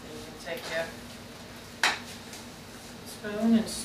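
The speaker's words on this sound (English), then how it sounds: "spoon and stir it all up." A spoon scrapes and clinks against a pan of red beans for New Orleans style red beans and rice, a few brief stirring knocks, one sharper clank, between moments of talk.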